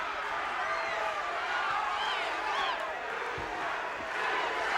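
Wrestling arena crowd at a Bruiser Brody versus Abdullah the Butcher match, a steady distant roar of many voices with rising chant-like swells, continuous throughout.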